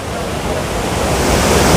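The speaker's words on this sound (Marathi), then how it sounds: "त्यातच हा धबधबा" Cheeyappara waterfall near Munnar pouring in the rain, a loud, dense, unbroken roar of rushing water filling the whole moment.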